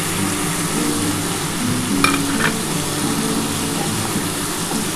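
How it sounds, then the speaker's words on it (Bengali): Capsicum, cashews and raisins fry in a pan for a vegetarian mixed-vegetable dish, giving a steady, moderate sizzle with a faint clink of stirring around the middle. "এই যে দেখো ক্যাপসিকাম কাজু আর কিশমিশ এগুলো দিয়ে দিলাম"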